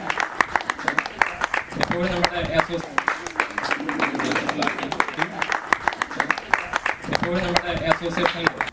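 An audience at an association gathering claps steadily, a busy patter of hands running throughout while someone speaks over it in a news-style voiceover.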